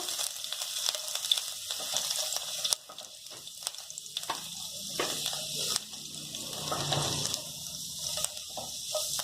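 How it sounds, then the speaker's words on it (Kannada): Chopped garlic frying in hot oil in a pan for cabbage Manchurian, a moderate steady sizzle with occasional stirring scrapes and clicks, no speech. "ಕಟ್ ಮಾಡಿ ಇಟ್ಕೊಂಡಿರೋ ಗಾರ್ಲಿಕ್ ಹಾಕಿ ಸ್ವಲ್ಪ ಫ್ರೈ ಮಾಡ್ಕೋಬೇಕು"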